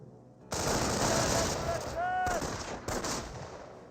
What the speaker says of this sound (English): MG42 will cover the victory point.